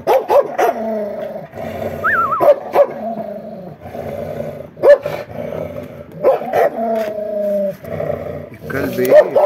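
A dog barks repeatedly in loud, insistent bursts with some whiny yips mixed in, while people talk nearby.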